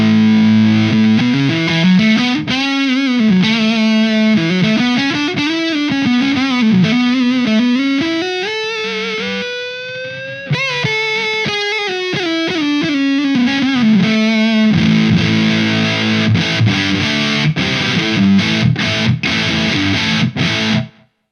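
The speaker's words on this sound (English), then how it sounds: "let's just start with the core fuzz tone itself" Electric guitar through an MXR Sub Machine fuzz pedal at its core fuzz setting, with bypass, volume, tone and fuzz controls only: a loud, bright, saturated fuzz tone playing a continuous riff with sliding notes and chords for about twenty seconds, no voices.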